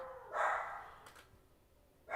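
A dog gives two or three short, faint barks in a quiet room, spaced about a second and a half apart.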